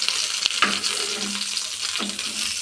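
Brinjal slices fry in oil in a pan with a steady, close sizzling hiss, broken by a couple of brief utensil clicks.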